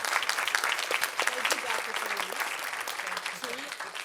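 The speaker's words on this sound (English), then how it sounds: "I would love for everyone to give a big round of applause to the panel" An audience at a women's conference panel Q&A gives a round of applause, dense clapping from many people held steady for a few seconds, with a voice speaking over it.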